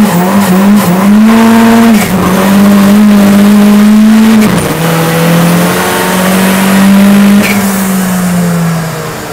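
A tuned Seat Arosa TDI with 400-plus horsepower accelerates hard with wheelspin, its loud sustained engine drone climbing in pitch over screeching tires, dipping briefly mid-run before pulling again close by.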